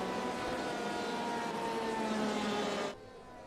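A Corvette race car in the iRacing video game during a 24-hour race at Circuit de Barcelona-Catalunya, its steady engine drone with a flat tonal whine holding loud for about three seconds before cutting off abruptly.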